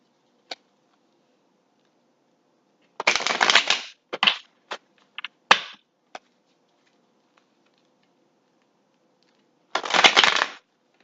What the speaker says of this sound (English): And I shuffle the cards until I feel they no longer move in